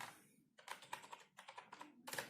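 Rapid keystrokes on a computer keyboard as a MySQL command is typed, close and crisp clicking in bursts with short pauses between words.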